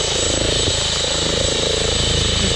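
A defence training helicopter flies overhead on a snowy mountain walk, a loud, steady rotor and engine roar filling the whole stretch without letup.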